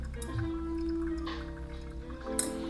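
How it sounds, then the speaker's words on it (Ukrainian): The final pour of hot water over ground Colombian coffee during brewing: a short, close, steady trickle of liquid with a few drips. "давайте фінальний пролив"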